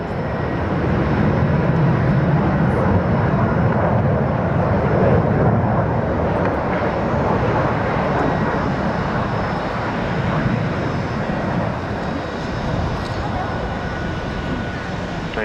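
A Blackburn Buccaneer jet flies around at an air display, its engine making a steady, broad, loud roar that holds for the whole stretch, with a commentator talking over it.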